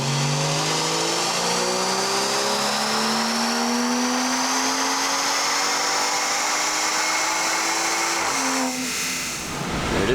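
A BMW F30 340i, set up in rear-wheel drive, runs hard on a dyno, its engine note rising steadily through a long wide-open pull before cutting off sharply near the end, loud and continuous with no talking.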